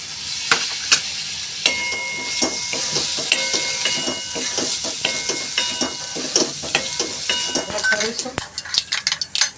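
Vegetables and spices for vegetable pulao frying and being stirred in a pan, a steady close sizzle with repeated scraping and clinking of the spoon throughout, no talking.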